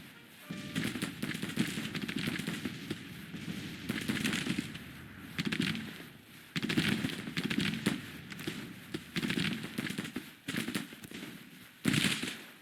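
Musket gunfire in a Grand Tactician Civil War battle: dense, crackling volleys of many shots rolling on in waves with short lulls between, moderately loud and without talk.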